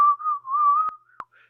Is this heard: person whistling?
yes